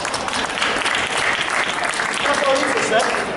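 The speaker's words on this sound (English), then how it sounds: "Give a round of applause." A hypnosis talk at a Whole Life Expo draws a steady, dense round of audience applause that stays loud and full throughout.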